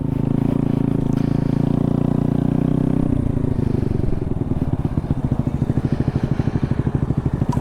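A Honda Navi motorcycle runs loud and close, its engine first holding a steady drone, then settling into a throbbing, pulsing putter as it rides, with a faint clatter.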